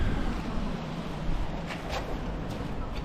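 Breezy seaside wind near a coast guard lifeguard station at West Bay, Dorset, buffets the microphone as a steady low roar with faint gusts and possible distant surf throughout.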